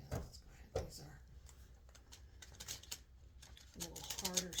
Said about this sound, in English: Do I want to shuffle this one too?